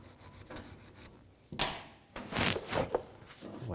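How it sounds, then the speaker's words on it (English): A wire brush scrubs rust and grime from the rear brake clip area of a 2008–2012 Dodge Grand Caravan, giving one sharp scrape followed by several seconds of close, gritty back-and-forth bristle scrubbing. "You want to take a wire brush and clean anything in here,"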